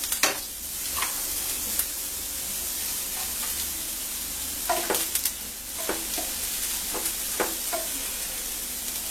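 Chopped garlic frying in oil in a pan for mutton keema, with a steady sizzle and repeated stirring scrapes of a spoon, close and clear with no voices.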